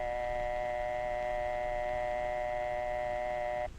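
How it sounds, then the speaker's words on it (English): A telephone dial tone hums steadily in the receiver, a loud, even, unbroken tone held for almost four seconds before it cuts off abruptly. "It's the hum you hear in the receiver,"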